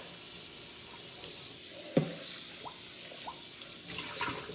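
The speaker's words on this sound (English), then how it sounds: "So what we're gonna do is turn this water on." A kitchen tap runs steadily as sea moss is rinsed, a continuous close hiss of water with one sharp knock partway through and a few small splashes and clinks.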